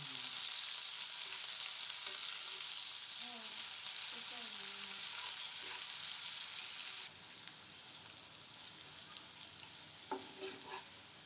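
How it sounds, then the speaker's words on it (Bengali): Chopped onions with a little salt fry in a pan for a chicken and potato curry, giving a steady soft sizzle with faint stirring scrapes, fairly quiet and easing slightly midway. "পেঁয়াজটা হালকা করে ভেজে নেব"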